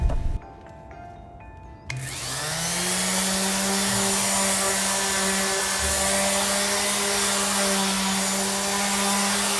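Power sander working over wooden nightstand top pieces, a steady loud droning whir that kicks in after a short quiet start and holds continuously.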